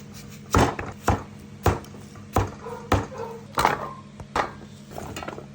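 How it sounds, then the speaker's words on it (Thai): A knife chops through pumpkin on a cutting board for Thai kaeng liang soup, with about eight sharp, evenly spaced thuds close up over a faint steady background hum. "หั่นฟักทอง"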